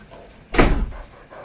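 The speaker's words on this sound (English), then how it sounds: "The door closed because of the gust of air." A door in a horror video game set in Inunaki Tunnel slams shut from a gust of air: one loud, close, abrupt thud with a brief rumbling tail.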